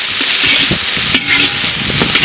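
Chopped onions fry in sesame oil with curry leaves, ginger and green chilies for a chicken samosa filling, giving a loud, continuous close sizzle broken by repeated scraping stirs in the pan.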